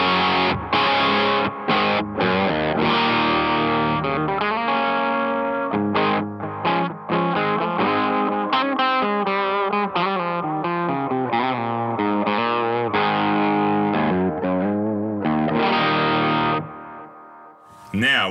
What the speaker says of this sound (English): So that's just the amp now on the drive channel.